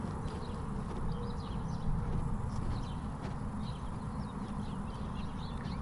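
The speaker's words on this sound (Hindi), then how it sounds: "आपको चिड़ियों के चहचहाने की आवाज़ें आ रही होंगी।" Birds chirping faintly in the distance in Canada in spring over a steady low rumble of outdoor noise, with scattered small calls throughout.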